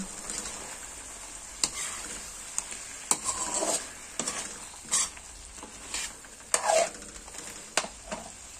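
Buttered garlic shrimp with chili being stirred in a pan, soft intermittent sizzling punctuated by sharp utensil scrapes and clicks at irregular intervals, fairly quiet overall.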